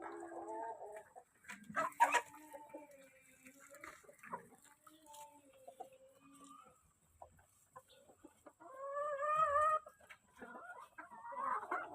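Farm chickens, including Brahma hens, clucking near at feeding time in a muddy, rain-soaked yard, with scattered short calls and a burst of louder harmonic squawks toward the end.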